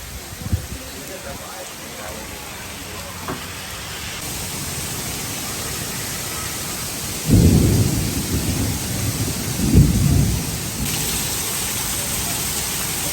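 Steady rain pours down at Hollywood Studios in Orlando while deep rumbles of thunder roll in twice, loud and close, over a constant wash of rainfall.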